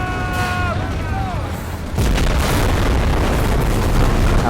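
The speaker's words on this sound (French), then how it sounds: "Ah ouais, grenade fumigène" Smoke grenade going off in a war video game: a sudden loud hissing burst that swells into a sustained, dense rushing roar, after a stretch of game sound with a voice speaking.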